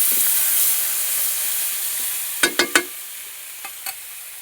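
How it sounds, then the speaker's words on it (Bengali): Whole spices and onion paste sizzling as they are stir-fried in a hot pan, a steady frying hiss that gradually eases, broken by a quick run of three sharp scraping knocks and two softer ones later. "ভালো করে মশলা কষিয়ে নেব।"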